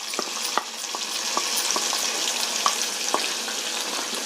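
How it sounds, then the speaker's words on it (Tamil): A ground tomato and tamarind paste sizzles steadily in a hot pan for a tomato pickle, a dense, bright frying hiss broken by small pops and spatters, close-up and continuous with no speech. "இப்போ நம்ம அரைச்சி வச்ச தக்காளியும் புளி பேஸ்ட்டும் உள்ள விழுது."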